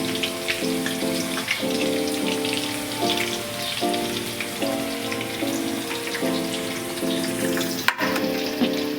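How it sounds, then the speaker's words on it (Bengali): Onions fry in oil in a pan for a Hyderabadi chicken curry, giving a dense, steady crackling sizzle close by, with a humming tone in the background and one sharp click near the end. "আমরা পেঁয়াজটাকে একটু ভেজে নেব"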